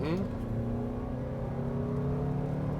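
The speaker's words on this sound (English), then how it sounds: "It sounds like a RAV4, Andrea." A 2026 Toyota RAV4 driving with a steady, muted engine hum and road noise inside the insulated cabin, continuous and moderately loud throughout.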